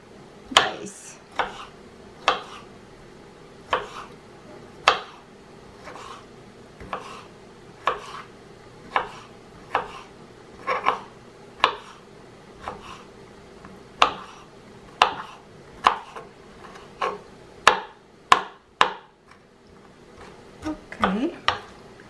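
A knife dices vegetables for a Ukrainian Olivye potato salad, giving a steady series of crisp, close board strikes, roughly one every second, that grow quicker and denser toward the end.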